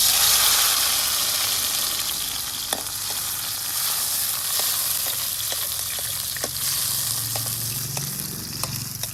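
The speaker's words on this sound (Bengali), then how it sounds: "এখন এই ঘি দেওয়া তেলের মধ্যেই আমি কাজু কিশমিশ ভেজে তুলে নেব" Cashews and raisins fry in ghee-enriched oil, giving a steady close sizzle and crackle. Occasional sharp pops and light stirring clicks cut through the bubbling.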